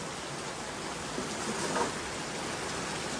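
Steady rain hisses continuously, a dense even wash of falling water with no pauses.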